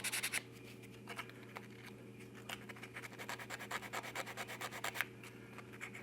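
A resin Aquaman statue is sanded by hand in short, rhythmic rubbing strokes, quiet and close, scratchy passes that speed up into a quick run before pausing, with no talking.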